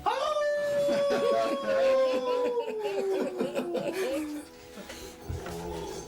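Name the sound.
person imitating a wolf howl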